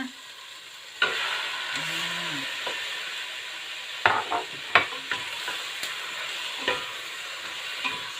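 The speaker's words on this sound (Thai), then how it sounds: "หอมกับกระเทียมเราเหลืองแล้วเพื่อนใส่เนื้อลงไปเลยนะคะ" Beef tossed into a hot pan of golden shallots and garlic sets off a sudden loud sizzle that keeps hissing steadily, with occasional utensil knocks and stirring scrapes, close by.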